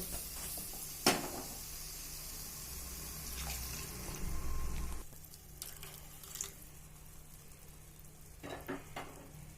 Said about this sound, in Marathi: आता आपण त्याच्यामध्ये गरम पाणी घालूया आणि एक चांगली उकळी येऊ द्यायची